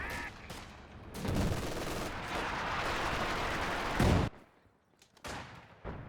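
Artillery and machine gun fire rage in the Company of Heroes 2 strategy game, a dense, continuous barrage of shots and explosions that ends abruptly, followed by a quieter gap and a few further bursts.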